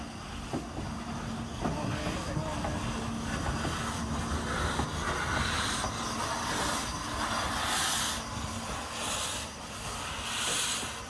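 Lynton and Barnstaple Railway steam locomotive moving down into the platform after steaming up, a continuous rumbling rolling noise with hiss and rhythmic chuffing beats in the later part, moderately distant.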